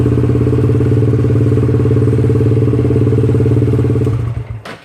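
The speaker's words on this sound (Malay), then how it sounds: "Sekarang ni kita akan hidupkan enjin." A SYM VF3i motorcycle engine idles loudly and steadily at close range with an even, throbbing beat, then dies away and falls silent in the final second.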